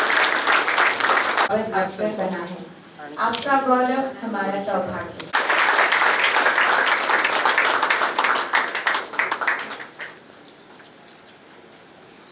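Audience applause welcoming a guest at a hostel committee function, with broadband clapping rising around speech before and after, loud then fading at the end while voices continue.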